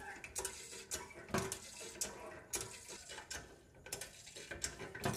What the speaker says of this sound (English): So start by pumping it full of water.